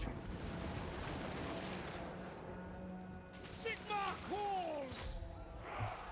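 Artillery fire in Total War: Warhammer 2, heavy booms rolling under a steady battle din, with a few sharp whistling sweeps near the end.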